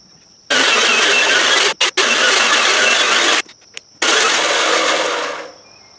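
A chainsaw mill motor runs loud and close while milling holly lumber, in long sustained roaring passes broken by a few sharp cut-outs and a pause before it winds down at the end.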